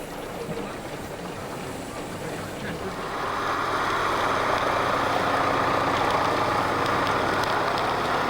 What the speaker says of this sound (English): The wheels and axles on this modern tractor enable it to tackle ground farmers would once never have dreamed could produce any crops